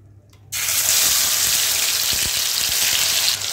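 Spice masala with coconut, ginger, garlic and cumin hits hot oil in a pan for a chicken liver fry, bursting into a loud, steady sizzle after a brief quiet moment, with faint stirring knocks.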